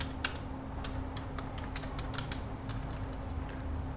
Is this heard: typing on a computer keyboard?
yes